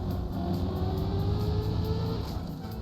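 A racing car engine in a video game revs hard and steadily under throttle, a dense, continuous roar with a rising tone that holds for nearly three seconds before easing slightly.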